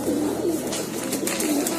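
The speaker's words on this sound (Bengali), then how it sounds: "আর এখানে যে কবুতরগুলো দেখতে পাচ্ছেন দর্শক সবই গ্রিবাস কবুতর" Giribaz pigeons coo softly in a loft, with several low rolling coos repeating over a steady background hum.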